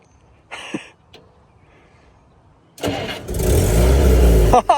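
A manual car's engine cranks and starts after a few quiet clicks and brief voice-like sounds, then revs up loudly and pulls away nearby.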